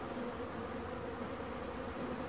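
Crowd of honey bees buzzing around an open hive during September beekeeping, a dense, continuous drone close by, steady and unbroken, with no voices.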